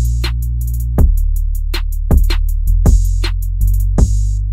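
A trap beat with deep, sustained 808 bass notes, crisp rapid hi-hats and sharp snare hits in a steady loop, no vocals.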